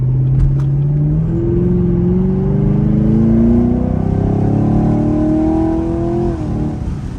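A Chevrolet Camaro SS V8 revs up close and loud, its low exhaust note climbing steadily through a long pull before easing off near the end, with a couple of sharp crackles early on.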